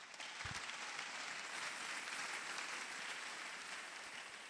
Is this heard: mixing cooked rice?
no